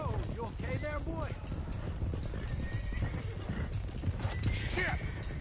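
Horses in a video game clatter along in a steady run of hoof clip-clops, with a stallion's loud whinny rising partway through, all close and busy with a voice speaking briefly over it.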